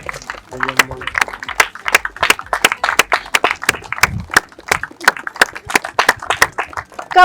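Rapid, uneven hand claps ring out close and loud in a steady burst through the whole stretch, mixed with talking voices, at a kabaddi match with TV serial actors.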